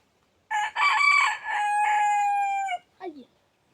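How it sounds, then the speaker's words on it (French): A rooster crows loudly at close range in a vegetable garden, one long cock-a-doodle-doo ending in a brief squawk. "Le coq il me crie dans les oreilles."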